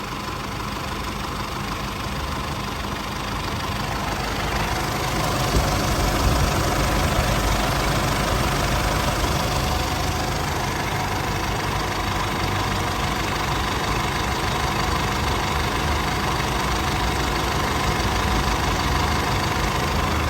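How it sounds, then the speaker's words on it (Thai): An Isuzu MU-7 3.0 VGS turbo diesel SUV engine, 2012, idles steadily and close by, with a low, even rumble and faint knocking that holds for the whole stretch, no voices. "อ่าเสียงเครื่องยนต์เป็นประมาณนี้"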